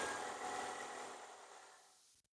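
Toyota Yaris engine running just after an oil change, a steady broadband hum that fades and cuts off as it shuts down, close and moderately quiet.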